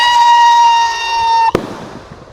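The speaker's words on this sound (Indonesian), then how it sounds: "roket yang kita nyalakan." A firework rocket hisses and whistles with a sustained rising tone, then ends in a single sharp crack, loud and close, during a Ramadan evening of setting off rockets.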